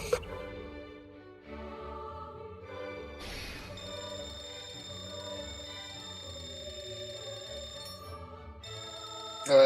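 A phone rings inside the puzzle video game Catherine, a repeated electronic ringing tone layered over steady game music throughout, with no talking.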